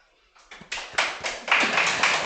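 A theatre audience breaks into applause at a talent show performance, starting with a few scattered claps and swelling into fuller, close clapping.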